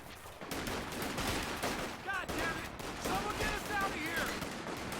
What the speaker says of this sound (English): the sniper's going to open up